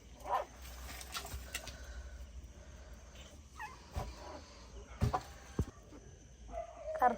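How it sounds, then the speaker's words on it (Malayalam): Several dogs bark and yip in scattered bursts, some nearer and some farther off, with quiet gaps between calls and faint background chatter. "ഇഷ്ടംപോലെ പട്ടികളൊക്കെ ഇങ്ങനെ കുരയ്ക്കണ സൗണ്ട് ഒക്കെ കേൾക്കുന്നുണ്ട്"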